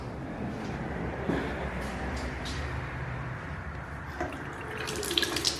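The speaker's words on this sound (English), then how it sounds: "okay, so we have running water" Tap water running steadily in the washroom of an abandoned but still open truck stop, a constant close hiss with faint clanks and shuffling around it.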